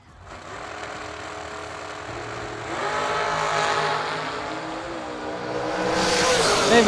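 Nitro dragsters roar down a drag strip, including a 2018 Nelson dragster and a 2017 American dragster, a loud sustained engine howl that swells and rises in pitch toward the end, with an announcer's voice faint beneath.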